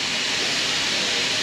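A steam train on the Talyllyn Railway gives a steady, loud hiss of rushing steam and rail noise heard close by, with no talk.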